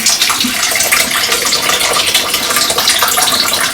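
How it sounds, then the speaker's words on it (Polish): Water is poured off from a ham cooker in a kitchen, a steady, close, splashing stream that runs continuously and loud throughout. "odlewam wody"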